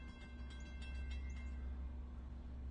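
A Long Island Rail Road train with a DE30AC diesel locomotive pushing its cab car pulls into the platform at Speonk, heard as a faint, steady low rumble and hum with a few soft high squeals from the wheels.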